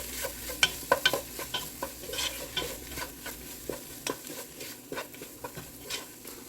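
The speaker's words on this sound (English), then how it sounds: "you kind of want to stir it around and let it cook until it darkens in color" Tomato paste stirred and scraped in a pan as it cooks down and darkens, giving a steady soft sizzle with repeated close scraping and tapping strokes of the utensil against the pan bottom, no talk.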